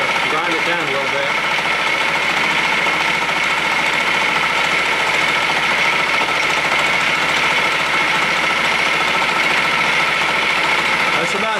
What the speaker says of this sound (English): It's two flutes, so it's gonna make some little bit of noise. Inside that carbide's dragging, so that'll grind it down a little bit.